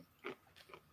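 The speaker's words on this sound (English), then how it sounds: "Sorry, I was chewing." A person chews food close to the microphone, with a few soft crunchy bites in quick succession, quiet and without talk.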